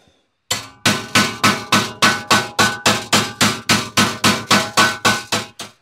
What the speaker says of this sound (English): Just took a few good smacks with the hammer